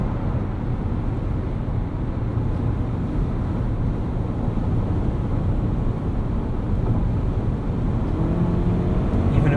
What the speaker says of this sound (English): Even at full throttle, the noise from the drivetrain is nicely isolated.